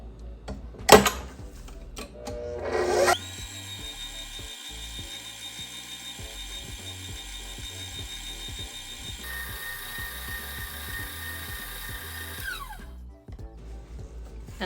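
An electric stand mixer whirs steadily at medium-high speed as it beats butter, sugar and egg yolks for a gateau breton. The motor tone shifts midway, and clunks and knocks sound at the start as the yolks go in.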